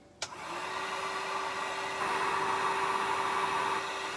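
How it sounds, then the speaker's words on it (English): A heat gun switched on with a click, then blowing a steady, loud, continuous whoosh with a faint whine, used for powder-painting jig heads. "Kick your heat gun on."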